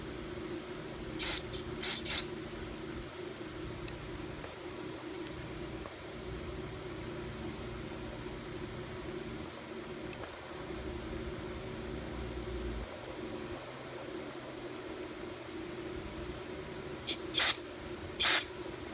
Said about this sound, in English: So I'm just gonna spray it out.